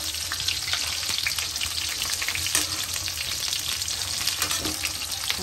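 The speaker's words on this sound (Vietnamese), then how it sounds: "bỏ vô dầu vô mình chiên cho giòn rồi ha." Tofu fries in hot oil until crispy, giving a steady, dense sizzle and crackle with occasional small pops, close up and continuous, with no voices.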